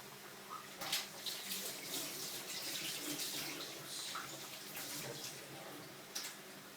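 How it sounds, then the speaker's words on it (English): Water runs steadily from a tap while hands are washed in a kitchen during pakora cooking, giving a soft, continuous splashing hiss with brief louder spatters as hands move through the stream. "I'm just going to wash my hands."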